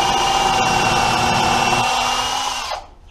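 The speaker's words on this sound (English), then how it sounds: "you want to start turning the drill bit before you make contact with the wood" A power drill bores a pilot hole into wood while building a barn-style end table, a loud continuous whine and grind that holds steady for most of the stretch, then stops abruptly near the end.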